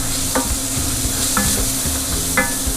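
Onions sizzle in a pan while a utensil stirs and scrapes them, giving a constant close frying hiss with three sharp scraping strokes about one second apart.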